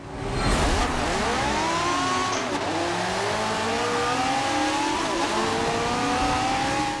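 Open-wheel race cars rev and shift at Autodromo Nazionale Monza in Forza Motorsport 7, several engines whining and rising in pitch together, loud and continuous, with a brief tire squeal.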